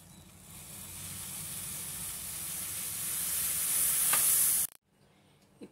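Milk heating in a pot on a gas stove for filter coffee swells into a rising hiss and bubbling sizzle that grows louder before abruptly cutting off, leaving near silence.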